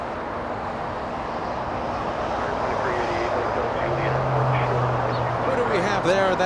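A Korean Air Boeing 777 arriving from Seoul roars overhead at Los Angeles International Airport, a broad steady jet rumble that stays fairly constant through the moment, with other faint background noise.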